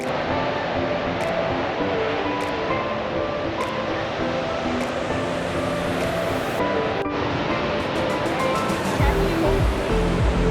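Ocean waves breaking on the shore of Rottnest Island, a continuous loud roaring wash of surf close by, with no talk over it.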